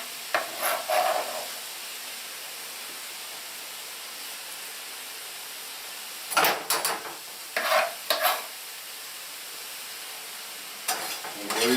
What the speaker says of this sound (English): And these are gonna go in the pan, steam it a little bit.